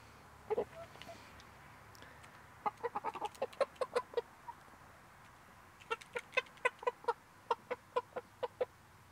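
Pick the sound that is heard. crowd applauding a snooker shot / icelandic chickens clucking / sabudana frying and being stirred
icelandic chickens clucking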